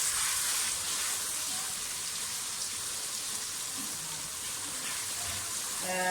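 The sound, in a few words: frying onion, garlic ginger paste and chilli paste for pulao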